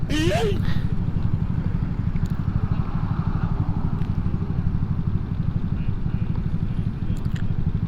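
A loud Honda Forza 2023 scooter with a full exhaust system rumbles close behind in traffic, producing a steady, deep, throbbing engine drone that continues throughout, with a rider talking over it.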